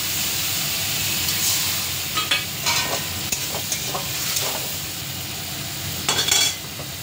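Spiced water poured into a hot cooking pan, giving a steady close sizzle with bursts of steam and a few stirring scrapes and clinks of a utensil against the pan.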